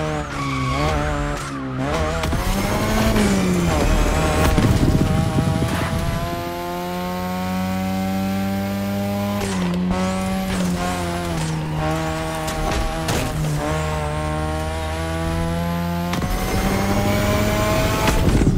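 Cars skid through touge mountain-road racing in The Crew Motorfest, with loud, sustained tyre squeals over high-revving engines that rise and fall through repeated drifts, with no talking.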